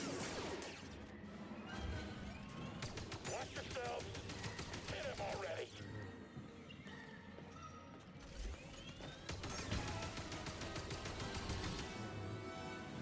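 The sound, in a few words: blaster gunfire in video game Star Wars Jedi: Fallen Order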